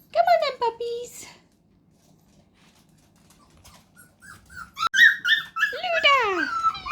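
Young Springer Spaniel puppies, about three to four weeks old, let out high whimpers and yelps in short bursts, close by, with a person talking over them.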